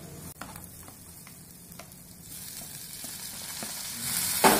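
Green chilies and tomatoes fry for egg bhurji with a steady hiss that grows louder toward the end. Faint ticks of stirring come through, and no voices are heard.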